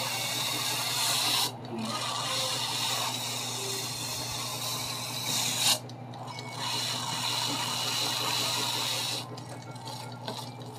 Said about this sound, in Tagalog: Kulo na yung tubig.